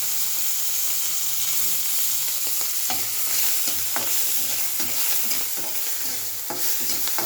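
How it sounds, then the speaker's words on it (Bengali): Prawns drop into hot oil and fry with a steady, loud sizzle and hiss, broken by scattered spatters and stirring clicks. "তেলটা গরম হয়ে গেছে। আমি এই যে চিংড়ি মাছটা ছেড়ে দিলাম"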